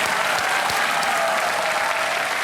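Thunderous studio audience applause on the game show Kaun Banega Crorepati, dense and continuous throughout, with no pauses.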